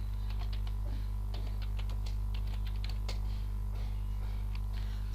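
Rapid, uneven clicks of fingers typing on a computer keyboard while entering text into an HTML page, steady and close over a constant low electrical hum, with no talking.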